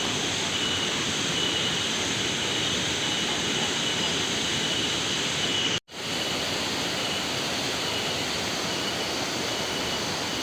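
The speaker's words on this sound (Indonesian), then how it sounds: "ini suara deru aliran sungainya ini benar-benar kedengeran banget ya" A river rushes through a forest beneath a footbridge, a loud, continuous broadband roar of flowing water close by, broken only by a momentary dropout midway.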